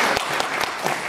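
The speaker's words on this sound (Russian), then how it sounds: "О, давайте похлопаем." An audience in a lecture hall claps together, a dense, steady burst of applause at close range lasting only a moment.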